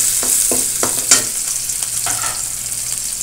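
Tuna (tambakol) innards sautéing in a pan for papaitan as chili is added, with a steady sizzle under a series of short, sharp stirring clatters, close and moderately loud.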